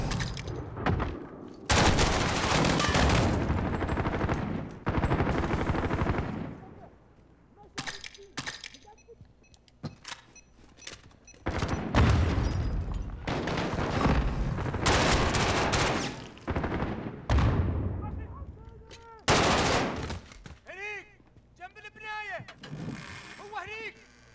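Mortar blasts and gunfire from a Modern Warfare video game battle, with bursts of loud explosive impacts and rattling shots spread across the clip, some sharp crackling hits among heavier booms, with voices talking in places.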